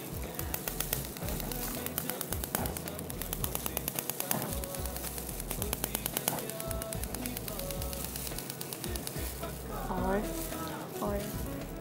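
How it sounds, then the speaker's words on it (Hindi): Oil bubbles and sizzles loudly and continuously while deep frying, with a dense crackling texture and faint voices in the background. "यही ले लो ना बख्तियार, यही ऑयल ले लो ना डीप फ्राई के लिए"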